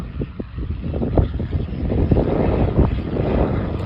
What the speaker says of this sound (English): There's the helicopter, that's come back.